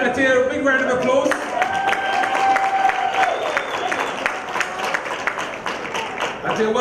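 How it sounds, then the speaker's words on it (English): An audience at an interactive learning workshop applauds to welcome a participant, clapping mixed with some cheering and a whoop, while voices talk and tonal sounds ring over the clapping. "Let's give Ethia a big round of applause."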